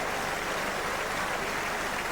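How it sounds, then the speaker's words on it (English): Stadium crowd at Páirc Uí Chaoimh applauds a departing Cork footballer during a Munster football final replay, a steady, broad wash of clapping filling the whole stretch at moderate distance. "Huge round of applause for Graham Canty"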